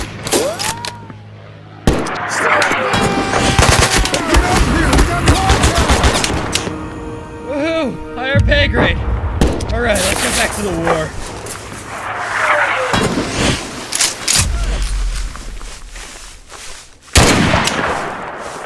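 Rapid bursts of machine-gun and rifle fire in the Mud and Blood war game at St. Lo. The fire rattles loud and close in repeated volleys, with shouted voices mixed in.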